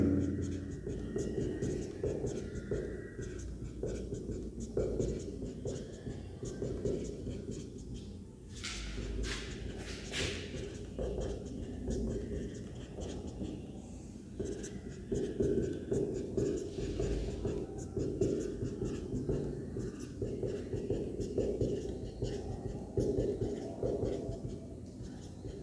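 Pen writing out matrix rows during a class 12 maths lesson, producing soft continuous scratching strokes under a steady hum, with faint background speech.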